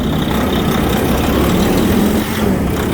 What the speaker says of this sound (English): Okay, we got the engine running.